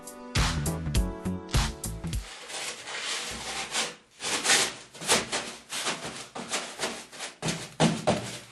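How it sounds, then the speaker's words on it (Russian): Rhythmic rasping strokes of a hand saw cutting through wood while laying a loggia floor, fast and close at first, then steadier back-and-forth pulls with brief pauses. "Размечаем местоположение бугра и пилим с помощью пилы"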